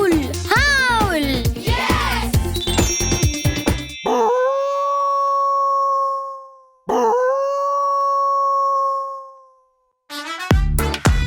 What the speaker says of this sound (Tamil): ஓனாய் எப்படி ஊளையிடும்னா?